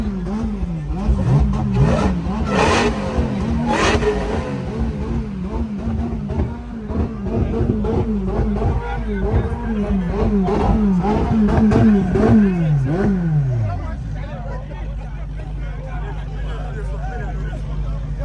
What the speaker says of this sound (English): You were shooting flames and I missed it.